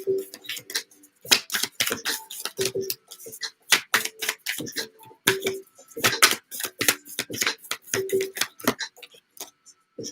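Oracle cards shuffled by hand in a September 2020 Sagittarius reading, a series of quick, crisp flicking bursts in irregular rhythm, close and fairly loud, with brief pauses between riffles.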